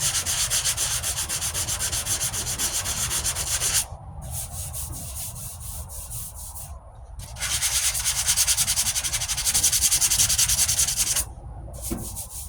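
Hand sanding of a 1998 Ford Ranger passenger-side wheel arch repair with 220 grit sandpaper, a close, continuous scratchy rubbing that stops briefly twice and then resumes.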